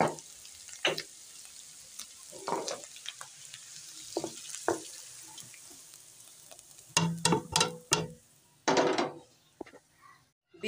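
Beef and cauliflower fry in a pan with soft sizzling under louder scraping and clanking of a spoon stirring against the pan, coming in irregular clusters close up.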